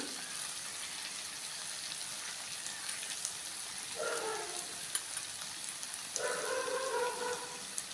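A masala of turmeric and chilli powder sautéing in a pan for a choora fish mezhuk peratti, with a soft continuous sizzle and two short stirring bursts, fairly faint and with no talk.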